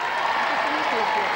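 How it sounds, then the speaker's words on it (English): A studio audience claps for royalty at a 1987 televised charity tournament, the applause steady and dense throughout, with a voice speaking over it. "A little applause for Royal Highness."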